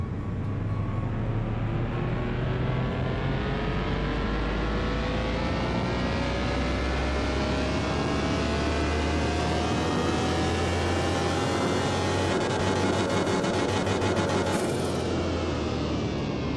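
Nissan 350Z engine running on a dyno in Car Mechanic Simulator 2021, a loud continuous roar that climbs steadily in pitch over a long sustained pull, cutting off abruptly near the end.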